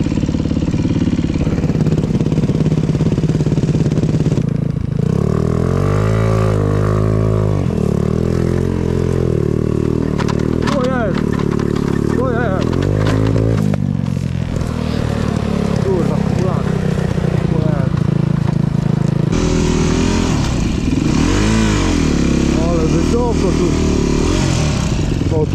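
A small enduro scooter engine idles and revs in bursts, its pitch rising and falling throughout, with voices talking over it.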